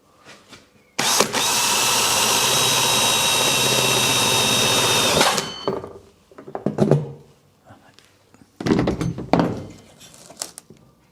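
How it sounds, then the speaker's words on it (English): A power drill whines loudly and steadily for about four seconds drilling a hole while fitting a water tank to a Land Rover Defender, then stops, followed by a few clunks and shuffling handling noises. "Anyway, drill a hole."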